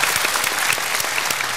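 A studio audience at a Cambodian talent show applauds a performance, loud and sustained clapping from a large crowd with a few sharper individual claps standing out.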